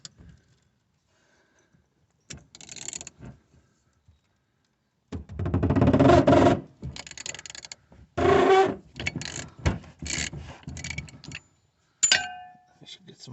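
A socket wrench with a 36mm six-point socket works the diesel fuel filter housing on a 2010 Vauxhall Astra J 1.7 CDTi, with intermittent close mechanical clicks and clunks in separate bursts after a quiet start.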